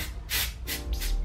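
Hair texturizing spray mists out in three short, close hisses, the first and longest followed by two quicker bursts, with a low shaking rumble underneath.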